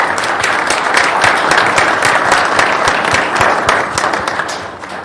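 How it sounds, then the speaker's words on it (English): A room full of people at a city council meeting claps steadily for a troop, a dense, loud applause that holds throughout and eases slightly at the end. "everyone give them a round of applause."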